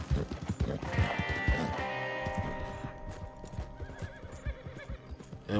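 Horse whinnying loudly up close with steady clip-clop of hooves in Red Dead Online, the neigh trailing off while hoofbeats continue throughout.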